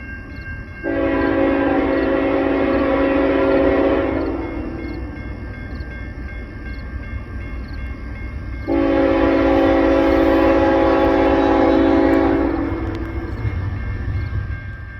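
A CN freight train, Q198, passes with its horn blowing in two long loud blasts separated by a pause, the rumble of the moving train continuing underneath throughout.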